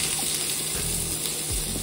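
Chopped onion hits a spoonful of hot oil in a home kitchen pan and sizzles with a steady, hissing crackle that stays close and even throughout.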